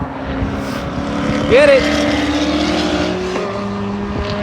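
Race cars, a C7 Corvette and a BMW, lap the Sonoma track, their engines a steady, fairly loud roar with a brief rising whine partway through, under spectator chatter and a short shout.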